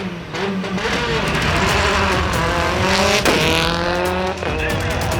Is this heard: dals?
no